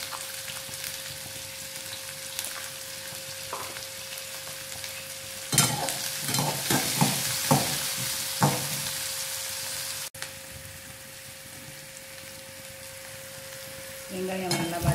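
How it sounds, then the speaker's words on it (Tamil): Onions salted and sautéing in a pan for semiya biryani keep up a steady frying hiss, and a burst of stirring scrapes and clatter breaks in midway before it settles back to a quieter sizzle. "வெங்காயம் நல்லா வதங்கிடுச்சு"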